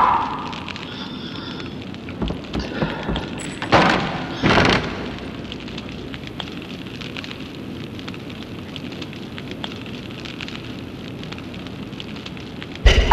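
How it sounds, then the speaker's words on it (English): An Incendio fire spell ignites a brazier in the PS2 game Harry Potter and the Sorcerer's Stone: a steady crackling fire hiss runs throughout, with a few louder whooshing flare-ups early on and a sharp burst at the very end. "I should cast Incendio on that other brazier quickly."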